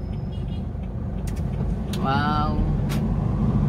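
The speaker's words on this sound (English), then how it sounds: "Oh, lots of vehicles." Busy street traffic in Pasig with many private cars passing, a steady close engine and road rumble throughout, with a brief voice exclaiming partway through.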